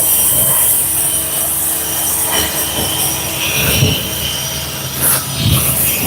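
A soft-bristle brush scrubs a deteriorated seat during interior detailing of a Toyota Highlander, giving a steady close scratchy rubbing with repeated strokes and no talking.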